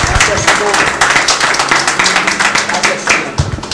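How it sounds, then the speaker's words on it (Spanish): A church congregation claps at a morning service, steady rhythmic hand-clapping that pulses throughout, loud and close, with voices mixed in. "Dele un aplauso al Señor"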